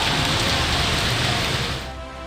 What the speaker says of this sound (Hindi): मूसलाधार तूफानी बारिश में पाकिस्तान का सबसे बड़ा शहर फिर डूब गया।